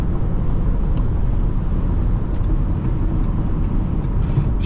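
A 2025 Audi Q5 accelerates on the road, a steady, dense engine and road roar heard from inside the cabin, holding level throughout with no voices.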